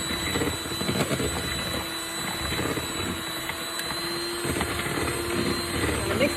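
An electric mixer whirs steadily on high through lemon pie filling in a bowl, a continuous close motor hum with faint rattling, while someone talks briefly in the background.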